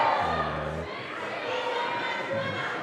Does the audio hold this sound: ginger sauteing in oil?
no